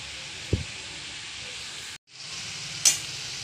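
Egg chow mein is stirred and fried in a pan with a continuous, moderately loud sizzle that cuts out briefly midway and then resumes, with a couple of sharp utensil knocks.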